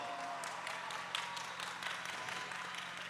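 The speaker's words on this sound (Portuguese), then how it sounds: "Uma salva de palmas para eles" A church crowd at a Brazilian youth mission event applauds, with dense, steady clapping and a few louder claps standing out. The applause stays fairly even throughout, with faint voices beneath it.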